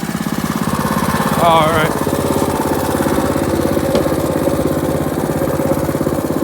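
A small mini bike engine chugs at a steady, rapid putter close by, loud and continuous, with a brief rev swelling around one and a half seconds; someone says a few words over it.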